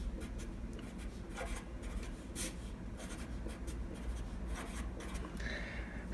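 Pen or pencil scratches steadily across paper while math is written out, a close, continuous rasping with short strokes and no talking.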